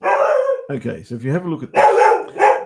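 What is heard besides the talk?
dog barking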